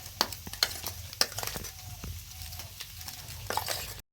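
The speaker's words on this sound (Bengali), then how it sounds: "এই আলু ভাজার তেলেই সব ভেজে নেব সুন্দর করে, হালকা করে ভেজে নেব" Chicken filling for stuffed pitha fried in oil left over from frying potatoes, with a soft steady sizzle and several sharp stirring clicks of a spoon against the pan.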